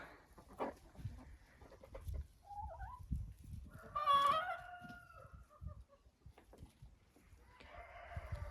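Hens in a dacha chicken coop on a rainy day give scattered soft clucks and one drawn-out call, faint and fairly close, with low rustling in between.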